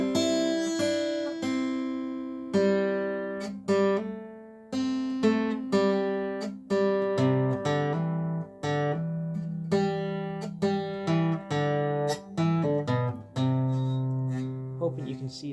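Acoustic guitar picked in the Carter scratch style plays Wildwood Flower, a bright melody line on the bass strings with brushed chord strums between notes, steady and close, with no talking.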